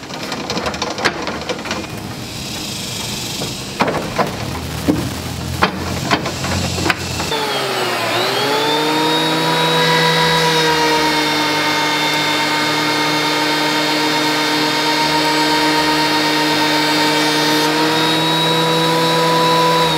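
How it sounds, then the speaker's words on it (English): A planer starts up and runs steadily on a board of lumber, a loud sustained whine with bright harmonic tones after a few seconds of clattering handling noise. "And I'll get this on the planer,"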